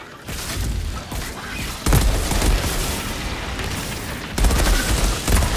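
Rapid gunfire from a crafted weapon in the shooter game Outriders, a dense sustained fusillade with heavy booming bursts near 1.9 and 4.4 seconds, loud and continuous throughout.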